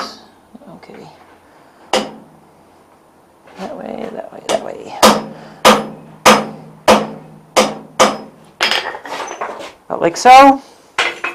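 Hot steel is struck with a narrow straight cut chisel while forging a butt-welded ring, giving a regular series of about a dozen loud, ringing metallic blows close by, with brief talk at the start.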